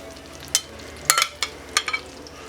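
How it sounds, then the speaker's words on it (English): Banana bread French toast laid into melted, bubbling butter in a pan gives a low sizzle broken by several sharp, brief crackling bursts as the slices hit and settle. "Let's put our French toast into the pan"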